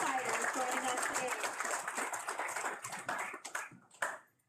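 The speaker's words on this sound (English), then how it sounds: "Let's give them a round of applause." Applause from a crowd at a government bill signing ceremony, a dense wash of clapping that thins out and fades toward the end, with a few scattered claps last.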